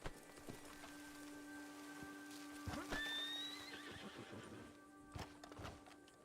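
A horse in Red Dead Redemption II whinnies in a rising, drawn-out call over steady hoofbeats, with soft rain-like patter and game ambience around it; no one speaks.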